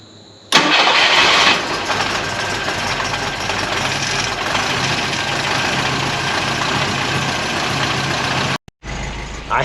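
Long-abandoned old Volvo wagon cranks and fires, its engine catching abruptly and settling into a loud, close, rough idle that cuts out briefly near the end.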